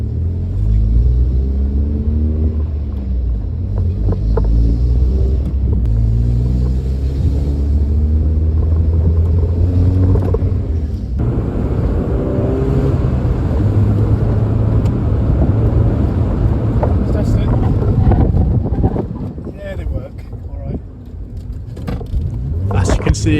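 Mazda MX-5 on a test drive after a brake job, its engine giving a steady close rumble through the cabin with road noise beneath, while a voice talks over it throughout.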